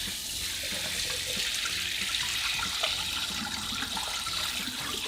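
Cold water from a kitchen tap gushing through a cheap plastic kitchen gadget, a steady close-up rush with faint splashing and trickling, continuous and even for several seconds with no talk.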